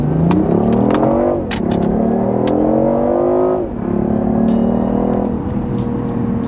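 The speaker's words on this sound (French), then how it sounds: "On va se permettre de faire une petite accélération pour commencer" A BMW i8 accelerating in comfort mode, its engine rising in pitch through several gear changes with brief dips between shifts, loud and close inside the car, with no talk.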